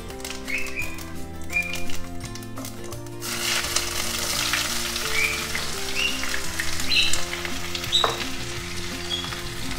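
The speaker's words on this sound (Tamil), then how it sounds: "வெங்காயம் போட்டு நல்லா வதக்கிக்கலாம். நல்லா ப்ரௌன் ஆகிற வரைக்கும் நல்லா வதக்கிக்கலாம்." Onions and cumin fry in hot oil for rajma masala, giving a close, steady sizzle with crackling pops, while a spoon clatters against the pan early on.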